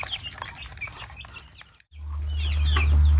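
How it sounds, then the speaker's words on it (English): Chickens and ducks cluck and chatter close by while eating over a steady low rumble, with scattered bird calls mixed in. "We have ducks and chickens eating normally."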